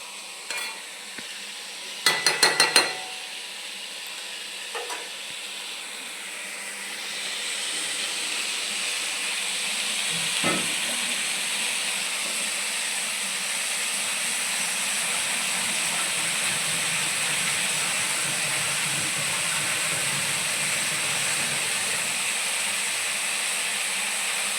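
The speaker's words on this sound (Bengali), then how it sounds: "আঁচটা কমিয়ে দিয়ে হালকা আঁচে নাড়তে চাড়তে থাকবো" Mixed fruit chutney cooks in a pan over a low flame with a steady soft sizzle, broken early by a few clinking spoon scrapes and one knock.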